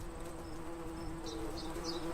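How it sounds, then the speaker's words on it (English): A bee buzzes faintly and steadily, with a few brief higher whines drifting in near the end over a soft outdoor background, and no voices. "Imagine a bee flying around in its natural habitat and buzzing from flower to flower."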